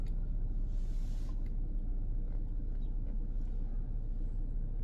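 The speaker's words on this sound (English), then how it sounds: "There's a truck." A truck driving by on a road, heard as a steady low rumble of traffic noise at moderate distance, continuous and even throughout.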